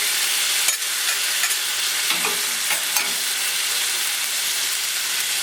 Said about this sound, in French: Il faut mijoter tout doucement.